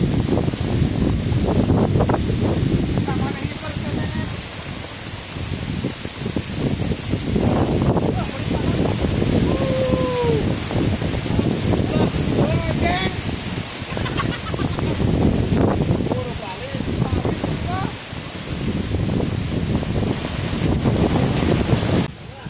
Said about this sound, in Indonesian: Anginnya kenceng banget teman-teman.